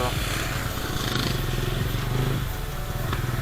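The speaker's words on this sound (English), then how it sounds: "let's take this bike for a short spin and see how the bike really performs" A 2022 TVS Ronin 225 motorcycle is ridden, its engine drone steady and close alongside wind rush throughout, with no clear speech over it.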